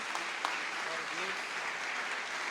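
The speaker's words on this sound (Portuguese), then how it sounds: "aplauda o Senhor que Ele merece" Applause from a congregation during a Brazilian family church service, a steady, moderately soft wash of clapping with a few sharper claps near the start and faint voices underneath.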